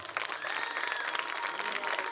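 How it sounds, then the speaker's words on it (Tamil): Women in an audience at a Tamil stage event clapping together, a brisk, dense burst of applause that holds steady through a short stretch. "எல்லா பெண்களும் எனக்காக ஒரு முறை கைத்தட்டுங்க பார்ப்போம்"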